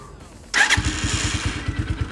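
A GPX Legend 150S motorcycle starts up close by, with a sharp starter whir and catch followed by a steady, thumping single-cylinder idle with regular pulses.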